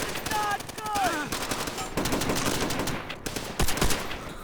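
Rapid automatic gunfire from the video game Call of Duty: World at War on the custom map Tokyo, a dense rattling stream of shots that carries on throughout, loud and close, with a few other game effects mixed in.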